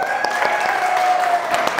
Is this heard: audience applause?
yes